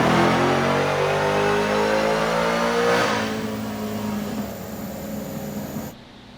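A Dodge SRT-10 fitted with a Dodge Demon engine revs hard and loud, one long high-pitched wail that drops to a lower drone midway and then cuts off abruptly near the end.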